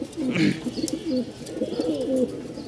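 Pigeons cooing repeatedly in soft, throaty rolling phrases, close by and fairly loud, with faint chirps in the background and no talking.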